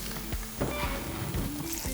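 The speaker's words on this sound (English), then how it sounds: "we're going to do is add these skin side down into the pan" Duck breast laid skin side down in a hot, smoking pan gives a steady close sizzle and crackle, with a few soft clatters from the pan along the way.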